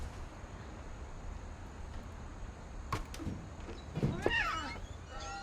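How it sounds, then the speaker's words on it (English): A cat meows in the video game What Remains of Edith Finch, a short rising call near the end over a low steady ambient hum, preceded by a couple of faint thumps. "I'm hearing a cat."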